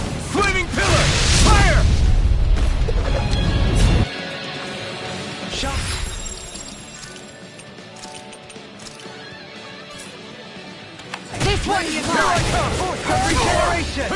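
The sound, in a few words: fire spell explosions from video game Tales of Arise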